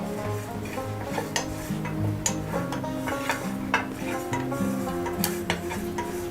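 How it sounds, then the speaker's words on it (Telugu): Cumin seeds roasting in a hot pan while being stirred, giving a steady dry rattle and scrape of utensil against metal with faint crackles, close and continuous, with a background musical tone throughout. "వేడెక్కిన తర్వాత ముందుగా జీలకర్రని ఫస్ట్ యాడ్ చేసేసుకొని కొంచెం రోస్ట్ చేసుకోవాలి."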